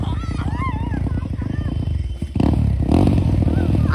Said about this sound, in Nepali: हाम्रो चाहिँ अब बल्ल बल्ल स्टार्ट बाइक भएको छ यहाँ